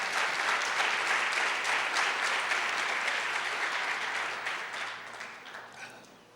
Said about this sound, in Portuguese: Então aplauda bem forte a Jesus.